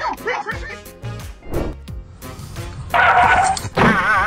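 An excited dog barks and yips several times in quick bursts, loud and close, mixed with other clip sounds and some background noise.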